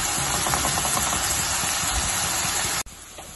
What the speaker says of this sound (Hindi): ये देखें ये फ्राई होता जा रहा है